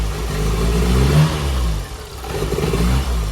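A Metro GTi engine revs hard close by, a loud, rough mid-pitched roar that rises and dips once before building again.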